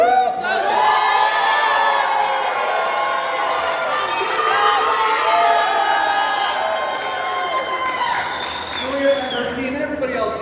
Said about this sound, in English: Give Julia a round of applause.